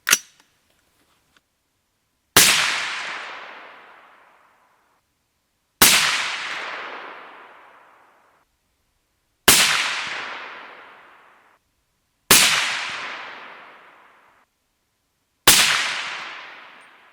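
Rifle chambered in 300 Blackout firing light supersonic handloads with Hodgdon CFE BLK powder outdoors: five loud, sharp reports spaced a few seconds apart, each trailing off in a long decaying echo, with no talking.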